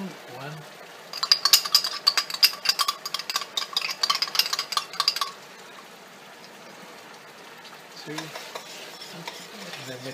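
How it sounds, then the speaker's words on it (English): Bucatini is stirred through squid ink sauce in a pan, giving a quick series of wet clinking scrapes for a few seconds over a faint sizzle, then a quieter stretch with a few more stirs near the end. "And then mix it around and get the color."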